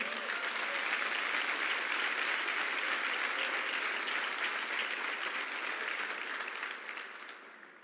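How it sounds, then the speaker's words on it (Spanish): A church congregation bursts into loud, sustained applause during a sermon, a thick wash of many clapping hands that stays steady for several seconds before gradually tapering off. "Dale un fuerte aplauso al Señor."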